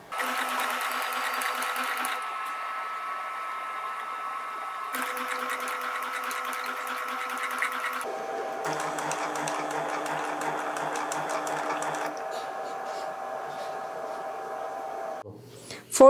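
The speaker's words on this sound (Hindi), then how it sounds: "जब आप आगे आगे सिलाई लगाते जाएंगे तो आपने कपड़े को ऐसे साथ साथ खींचते जाना है।" A tailor's sewing machine stitches fabric in several sustained runs, its steady motor whir stopping and restarting with shifts in speed and pitch, loud and close with no talk over it.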